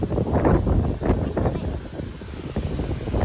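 Strong gusty wind buffeting the microphone ahead of a rainstorm in a village, a rough, rumbling low roar that rises and falls in uneven gusts.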